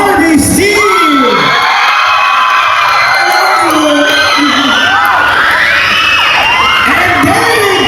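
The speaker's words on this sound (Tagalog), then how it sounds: "May sigawan na pakal for Barbie Steve!" Dense crowd at a mall show in Cebu, screaming, whooping and cheering loudly and continuously, with high shrill yells rising over the constant roar.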